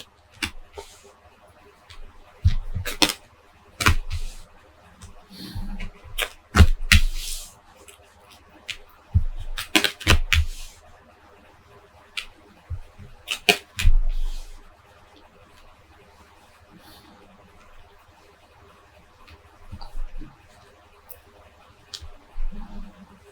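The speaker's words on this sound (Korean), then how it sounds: "타로 카드 열어볼게요" Tarot cards shuffled and laid out on a table during a weekly horoscope reading: soft papery flicks and taps come in short bursts with pauses between them, close up and fairly quiet, with no talking.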